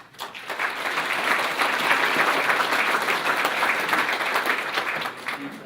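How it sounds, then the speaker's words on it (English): A meeting audience claps for a speaker being invited up at a community center kick-off, a dense round of applause that swells quickly, holds steady for several seconds, then tapers off. "if you'll all just give him a round of applause"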